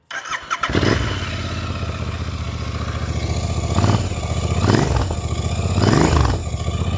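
A Royal Enfield Interceptor 650 with an aftermarket Way2Speed stainless steel exhaust cranks and starts, then idles with a deep, throaty exhaust rumble, revved briefly a few times, loud and close.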